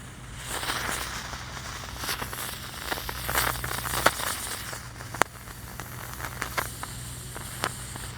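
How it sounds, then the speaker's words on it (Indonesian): A jumbo spinning ground firecracker (mercon gangsingan) burns on a Ramadan night, giving a steady close hissing crackle dotted with a few sharp pops and snaps over several seconds. "Lanjut kita nyalakan mercon gangsingan, gangsing jumbo pratek"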